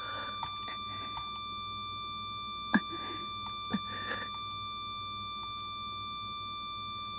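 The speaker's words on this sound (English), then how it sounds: "The alarm sounds as his vital signs diminish to a flat line" A heart monitor flatline alarm sounds in the Ever17 remake, a continuous steady electronic tone held throughout, with a few faint clicks and soft sounds beneath it.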